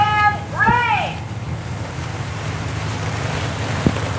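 Torrential rainstorm with strong wind on Oahu: a dense, roaring wash of wind and rain that stays steady throughout, with a voice heard briefly near the start.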